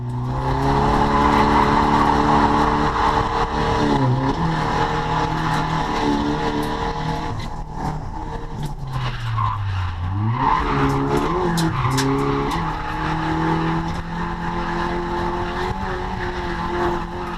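A car drifting in fourth gear at a track day: loud, sustained engine note with pitch sweeping up and down as revs rise and dip, layered with continuous tire squeal and skidding, up close throughout.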